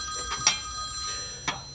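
A telephone bell rings indoors in short, fairly faint bursts with a gap between them, in a domestic scene with no talk over it.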